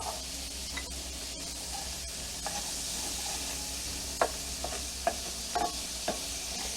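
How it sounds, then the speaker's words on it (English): Onions sizzling and caramelizing in a pan with the fond left from ground beef patties, a steady broad hiss broken by a few sharp stir clatters near the end. "So let's add our onions. Let's caramelize these bad boys."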